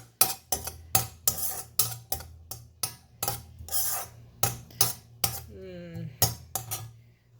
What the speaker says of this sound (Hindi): अब आ जाते हैं कि यहाँ मैं सौते कर रही हूँ इसको हल्का सा